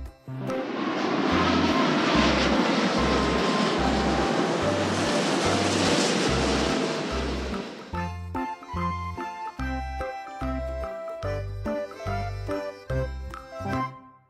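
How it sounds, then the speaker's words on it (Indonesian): An airplane engine roars in a broad steady wash for several seconds over a repeating musical beat, then gives way to music alone. "Pesawat."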